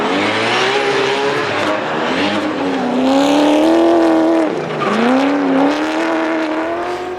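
Drift cars at a round of the New Zealand D1NZ drifting series at Mt Smart Stadium, Auckland, rev loudly, their engine notes rising and falling through gear changes, with tire squeal running underneath throughout.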